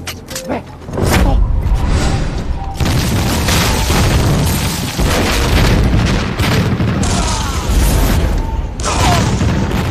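A film explosion destroys an enemy firing position, a loud deep boom followed by sustained rumbling blast and debris noise that fills nearly ten seconds, with smaller bursts layered through it and no clear talk.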